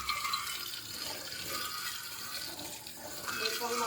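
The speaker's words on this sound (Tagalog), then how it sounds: "Kahit ang bukas mo lang hinaan, pero malakas pa rin ang bagsak ng tubig." Strong water pouring from a tap that is only partly opened, a steady broadband rush filling the whole clip at constant loudness, with people talking over it.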